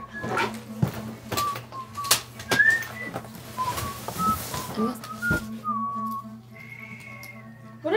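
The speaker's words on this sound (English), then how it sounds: "All I hear is whistling." Someone whistles short, wavering notes in an uneven tune, close by, with scattered knocks and clatter, ending on a longer held pitch.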